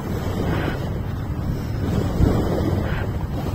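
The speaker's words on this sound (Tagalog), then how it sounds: "Pinaparood namin yung alon na lang." Sea waves wash onto a beach under steady, heavy wind buffeting the microphone, a continuous close roar with gentle swells and no voices.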